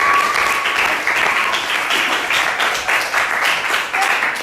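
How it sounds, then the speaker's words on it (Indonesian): Applause from a classroom of students during a lesson on the Sriwijaya and ancient Mataram kingdoms, a dense steady clapping from many hands that fills the room for several seconds, close and fairly loud. "tepuk tangan untuk kalian semua"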